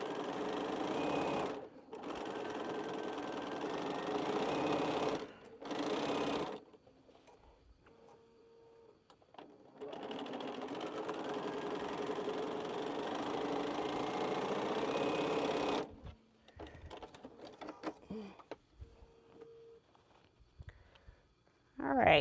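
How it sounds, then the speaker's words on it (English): Sewing machine stitching quarter-inch seams on each side of quilting half square triangles, running in steady bursts of several seconds with short pauses between them, close and clear. "sew a seam 1/4 inch on each side"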